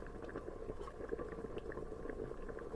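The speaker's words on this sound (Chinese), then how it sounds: "盖上锅盖，继续烹煮10分钟。" Braised chicken legs simmering in a covered pot, a steady low bubbling and gurgling that holds evenly throughout at moderate volume, with no voices.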